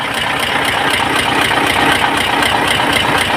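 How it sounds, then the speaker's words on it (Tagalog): A Mitsubishi 8M21 diesel engine idles steadily after a cylinder head gasket replacement, a loud, close, even rumble with a regular pulsing beat and no talk over it. "umandar na po yung ating pinalitan ng uh, ah, cylinder head gasket na FM21"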